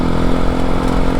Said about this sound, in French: qu'est-ce que c'est bon de reprendre la moto.